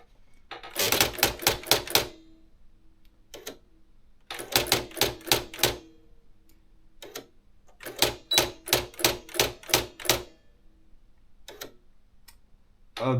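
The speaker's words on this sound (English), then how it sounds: "Let's move on to the beginning of the line and start typing." An Olympia electronic typewriter types in three fast bursts of sharp, close key strikes, with a few isolated clacks between bursts in an otherwise quiet room.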